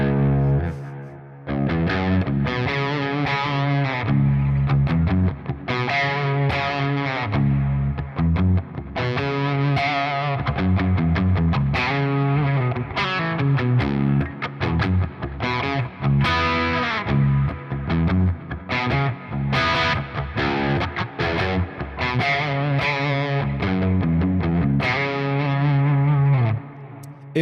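Electric guitar with worn, dead strings played through a Quad Cortex, a sustained distorted jam of chords and riffs with chorus-like shimmer, loud and continuous with only brief pauses, no talking.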